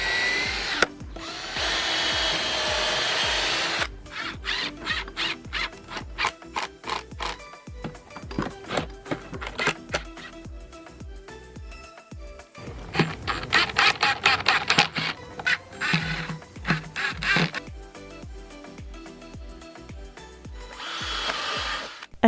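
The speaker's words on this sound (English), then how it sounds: "you are just about to watch me screw in a bunch of screws" A power drill whirs in repeated bursts, stopping and starting as screws are driven into reclaimed wood for a planter, with short pauses and clicks between runs.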